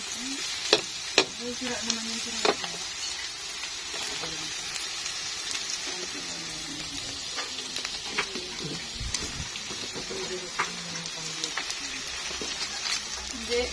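Onion and garlic sauté in a pan as a base for corned beef, making a steady, bright sizzle with scattered clicks and scrapes from stirring throughout.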